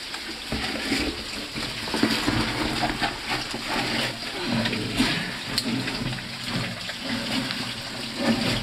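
Water pours and splashes steadily inside the Algar dos Carvalhos cave, a continuous rushing hiss with shifting splashes throughout and some faint low rumbling underneath.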